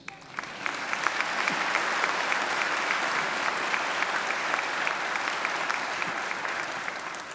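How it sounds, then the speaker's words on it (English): Graduation ceremony audience at Macquarie University applauding a graduate's family, a broad, steady roar of many clapping hands at moderate distance that swells quickly and holds evenly throughout. "I think they deserve a great round of applause"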